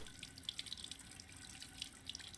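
Water runs from a working tap in the Resident Evil Village game, a soft, steady faucet stream with faint drips and splashes, quiet and alone.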